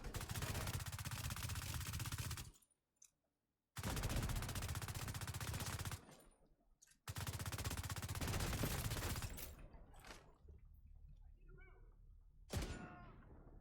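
Exotic assault rifle firing in The Division 2 video game, long dense bursts of rapid automatic fire in three stretches separated by short pauses, followed by quieter shots and impacts.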